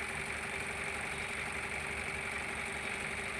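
An Ashok Leyland Partner truck's diesel engine idles steadily and close by, a continuous low rumble with a constant mechanical hum and no voices.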